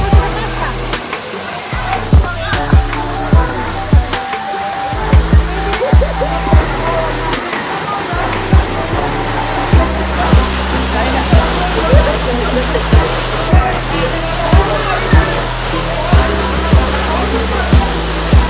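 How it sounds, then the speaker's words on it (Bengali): Steady rushing water from a waterfall near a narrow jungle trail on the road to Sajek, a continuous broadband roar running throughout with a low repeating thump and faint tones layered over it. "ঝর্ণার সাউন্ড শোনা যাচ্ছে, মেবি কাছাকাছি হবে।"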